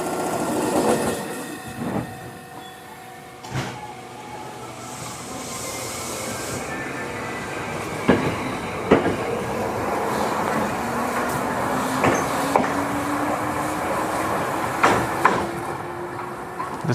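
A train rolling along rail tracks with steady rumble and occasional clacks and squeals, wheels running over fallen leaves on an old Japanese local line; continuous, fairly close, no talk.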